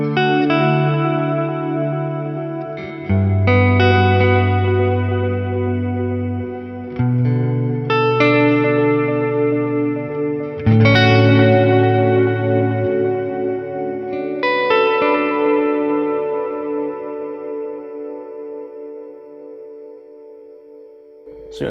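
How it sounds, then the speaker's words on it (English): Electric guitar chords and melody played through a warm, shallow delay feeding a reverb for an ambient tone: ringing strummed chords with soft repeats and a long lush wash decaying between strikes, no voices. "these warm, shallow repeats feed into the reverb and prolong the ambient effect"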